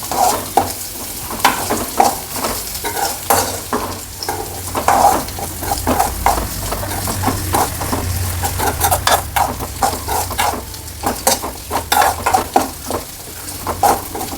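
Coconut pieces being roasted in a pan, stirred with rapid, repeated scraping strokes over a constant background sizzle, close and fairly loud, with occasional clinks of utensil on metal.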